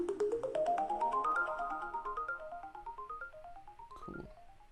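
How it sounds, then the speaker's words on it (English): Electrical sweep sound effect used in a lo-fi hip hop beat: a bright, buzzy synthetic tone rising steadily in pitch with a pulsing, stuttering texture, then a short crackling burst near the end, heard alone. "All right, the second one is Electrical Sweep."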